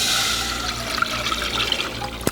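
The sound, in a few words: gravy mixture of cornstarch and pan juices poured into saucepan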